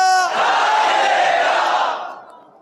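A large religious gathering shouts back in unison in answer to a Takbeer chant, a loud, sustained massed roar of voices that holds for about two seconds and then fades away.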